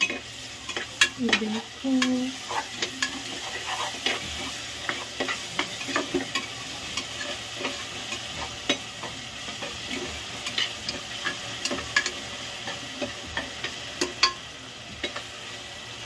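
Ginger garlic paste fries in a pan for mutton keema pulao, with a steady low sizzle and occasional stirring scrapes and clinks; someone says a brief word early on.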